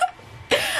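A single sharp cough, close and loud, following a short breath or faint voice sound.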